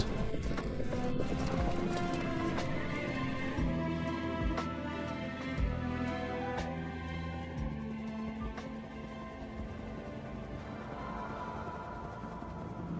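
Mongolian horses trot across Inner Mongolia grassland, their hooves producing a steady, continuous clip-clop at moderate distance under a dense outdoor background, with no one talking.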